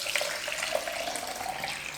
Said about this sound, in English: pouring the bicarbonate soda and water